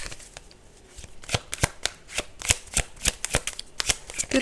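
Tarot cards are shuffled and drawn in quick, crisp snapping bursts, a run of sharp riffling clicks that speeds up toward the end, close and clear with no speech over it.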